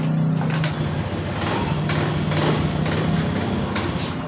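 A Honda BeAT Pop scooter engine running steadily at idle after being started, a constant close motor drone holding through the whole stretch with no voices.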